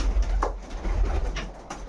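A racing pigeon coos softly nearby, a low throaty murmur with a couple of brief rising notes, over steady low rumbling background noise.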